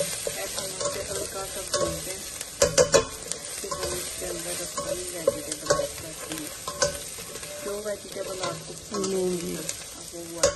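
Minced meat and garlic being stirred in a hot pan, a steady sizzle broken by repeated scrapes and clinks of a spoon against the metal, close and fairly loud.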